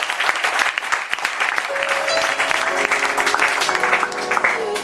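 A church congregation applauding to acclaim the Lord Jesus Christ, with dense, sustained clapping filling the room from start to finish and an organ or keyboard note sounding beneath.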